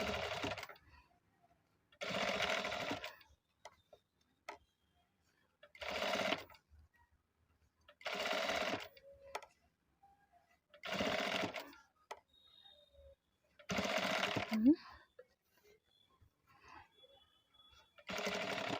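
A sewing machine stitches ready-made piping onto a ready-made blouse, running in about seven short, even bursts of rapid whirring with quiet pauses between them, recorded close up.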